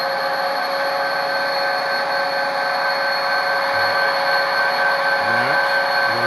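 An HO-scale Kato model locomotive's sound decoder runs at full throttle through a homemade speaker, producing a steady electronic diesel drone with layered tonal hum and a few short rising chirps near the end.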